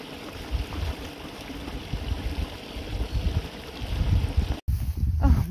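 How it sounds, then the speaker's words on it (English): Water running through a stream, a steady broadband rush, loud and close, continuing without a break. "there's water running all through here"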